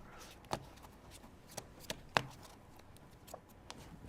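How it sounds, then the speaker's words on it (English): A deck of playing cards shuffled by hand in an old-style manner: a few sharp riffling snaps and taps at irregular intervals, fairly close and otherwise quiet. "this is an old style of shuffle, where they would shuffle them just like this"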